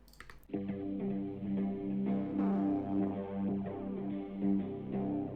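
Soft, smooth finger-played electric guitar chords blended into a mellow, pad-like sustained tone, heavily processed with effects, playing on without pauses.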